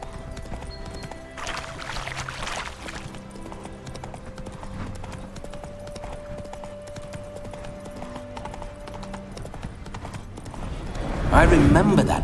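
Hooves of Roach, the horse in The Witcher 3 video game, clip-clop at a walking rhythm under a voice and background game music, ending with a loud, close whinny.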